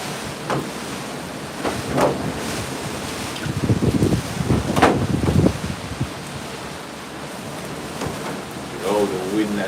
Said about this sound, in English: Oh, the wind again, really rough enough, people.